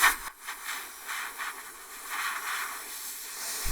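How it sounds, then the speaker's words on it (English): Compressed air blows a wet FCR carburetor slide dry in a workshop, a close, loud hiss that starts abruptly, pulses with uneven bursts and stops just before the end. "I'm just going to take a little air and blow dry it"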